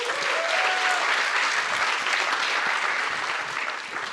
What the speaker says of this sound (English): Big applause for Fabio.